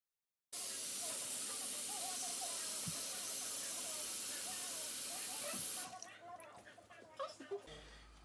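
Onions caramelizing in melted margarine give off a loud, steady broadband hiss for about five seconds, then the sizzle drops to a quieter, uneven crackle with a few scrapes and soft knocks.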